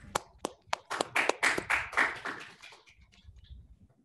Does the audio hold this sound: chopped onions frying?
no